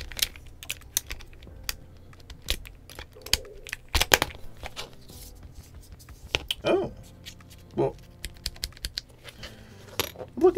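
Typing on a Leobog K81 mechanical keyboard, irregular clacky keystrokes and louder thocky stabilized key presses close up, with a brief spoken interjection among them.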